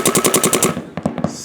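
A paintball marker, a Bob Long, fires Canadian paintballs in a rapid burst of about seven sharp shots, loud and close, followed by a few scattered single pops.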